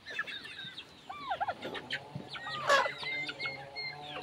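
Several turkeys cluck and gobble nearby in scattered, irregular calls, some sharp and rising, over a quiet background.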